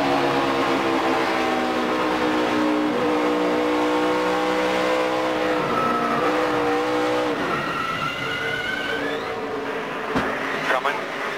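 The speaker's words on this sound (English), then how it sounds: "Let's go on board with Jimmy and just listen." On board a NASCAR Cup race car at Charlotte, the engine roars loudly with rising and falling revs through gear changes, the pitch sweeping up and down as the car accelerates and lifts.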